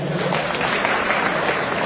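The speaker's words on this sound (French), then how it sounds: "Applaudissez très très fort pour les centrafricains" A university lecture hall audience claps for the Central Africans present, a brief burst of loud, dense applause throughout.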